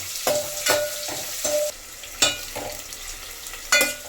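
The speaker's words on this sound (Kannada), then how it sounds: "ಕಟ್ ಮಾಡ್ಕೊಂಡಿರುವ ಒಂದು ಈರುಳ್ಳಿ ನೀಟಾಗಿ ಫ್ರೈ ಮಾಡ್ಕೊಳ್ಳೋಣ" Chopped onion frying in a pan for green chicken chops, stirred with a spoon: a steady sizzle broken by several sharp, close scraping strokes in an uneven rhythm, with no voices.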